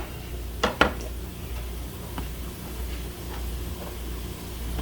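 Chili ingredients being stirred in a pot, a couple of sharp metallic clinks of spoon against pot early on, then quieter scraping and light knocks over a low background hum.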